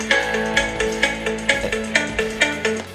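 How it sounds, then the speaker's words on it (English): A phone ringtone plays loud and close, a repeating melodic pattern of bright chiming notes with a regular, bouncy rhythm. "To actually make your phone ring so it's a little bit louder"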